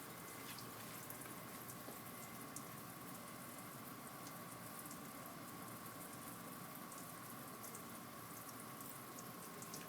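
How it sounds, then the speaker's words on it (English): Red-dyed distilled water sprays steadily onto taut Lynx Tuff Cat fabric during a spray impact test, giving a continuous, even hiss of spatter that stays faint and unbroken throughout with no voices. "you can see the red colored distilled water being sprayed on top of the fabric."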